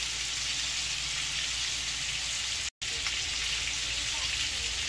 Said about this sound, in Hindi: अब इसको फ्राई होने देते हैं।